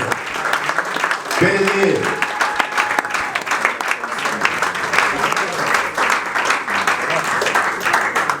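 A church congregation applauding, steady dense clapping filling the room throughout, with a voice briefly speaking over it near the start.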